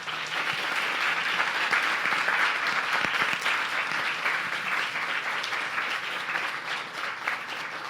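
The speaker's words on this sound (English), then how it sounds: "Everyone, let's give her one more round of applause." Sustained applause from a lecture audience in Raleigh, a dense, even wash of many hands clapping that holds steady for the whole stretch before easing slightly at the end.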